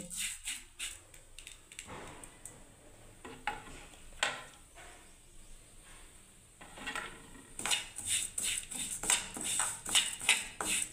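A utensil scrapes and clinks against a pan while semolina-style vermicelli fries for Bengali payesh, giving soft irregular stirring scrapes that grow busier and louder toward the end, with no talking.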